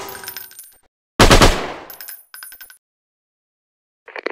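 In a sniper shooting video game, a loud burst of gunfire cracks out and tails off, then comes a short metallic rattle, a gap of silence and a brief final burst.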